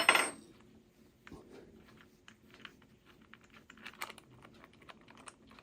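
A 3/16 Allen wrench loosens a screw on an HP-8 intarsia machine, giving a sharp metallic clink at the start and then a series of faint, close ticks and scrapes.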